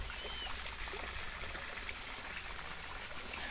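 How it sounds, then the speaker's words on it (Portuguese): Water trickles and streams steadily at a farm water wheel in Itumbiara, Goiás, a continuous soft, close babble with no talk over it. "Aí, Edivaldo, olha minha roda d'água aqui, ó. É aqui, ó, a zoadinha."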